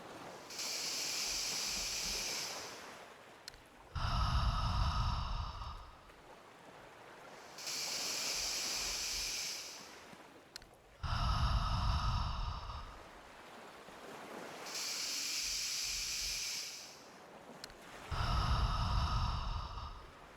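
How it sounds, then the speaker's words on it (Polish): Three slow, deep breaths during a calming EFT tapping routine, each a long airy inhale followed by a louder, rushing exhale, evenly spaced and close, with no talking. "weźmy sobie razem trzy głębokie oddechy"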